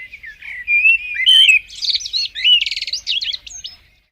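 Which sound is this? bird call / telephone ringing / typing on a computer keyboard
bird call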